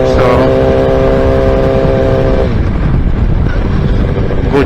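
A motorcycle rides along, its engine holding a steady harmonic drone that fades after a few seconds, with constant broadband wind buffeting the microphone throughout.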